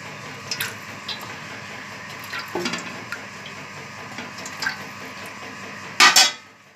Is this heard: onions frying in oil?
yes